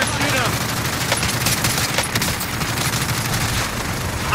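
Dense, continuous video game gunfire with overlapping automatic bursts and single shots, loud and close throughout, with excited players shouting over the shooting.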